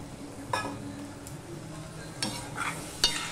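Ground spices, cumin powder and Kashmiri chilli powder, cooking down with a little water in a pan for a fish-head curry, giving a soft sizzle with a few stirring scrapes and utensil clinks.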